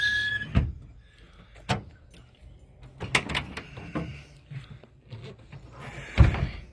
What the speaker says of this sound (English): Now I'm gonna do the back window from the outside, which you can see works.